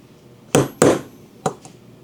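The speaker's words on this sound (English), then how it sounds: "So we will get us a punch and a hammer and drive that out." A hammer strikes a steel punch to drive a tight pin out of a Savage 775/755 shotgun bolt group: three sharp metallic taps, two close together then a softer third, on a quiet background with no talk.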